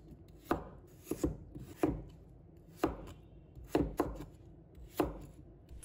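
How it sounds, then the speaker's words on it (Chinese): Two potatoes are cut into large chunks with a knife on a cutting board, about nine sharp, distinct chops at an uneven pace, close and clear, with no voices. "我们再准备2个马铃薯，把它切成块，要切大块一点"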